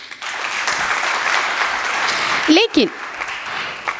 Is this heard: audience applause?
yes